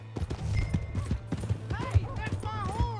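Horse hooves clip-clop in the video game Red Dead Redemption 2, a quick uneven run of hoof knocks beneath people shouting and talking over them.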